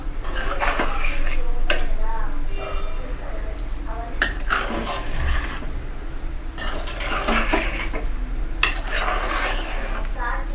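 Mango pulihora rice is stirred and mixed in a metal vessel after the tempering is added, giving repeated scraping and clinking of a spoon against the pot, with someone talking over it.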